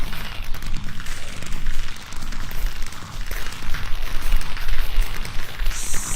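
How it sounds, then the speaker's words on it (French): Fireworks burst at night during an opening event in a video game, a dense continuous crackling and rumbling of explosions that stays steady and fairly loud throughout. "C'est magnifique les feux d'artifice là dans la nuit"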